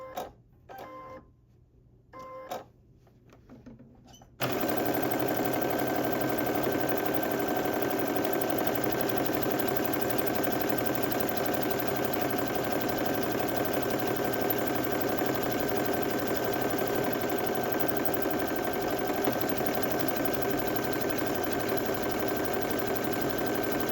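Sewing machine stitching a buttonhole on a sweatsuit, running as a loud, steady, continuous mechanical whir for about twenty seconds after a few seconds of quieter shuffling.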